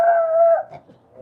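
A single drawn-out, tonal dog bark or yelp, close and loud, trailing off quickly into quiet.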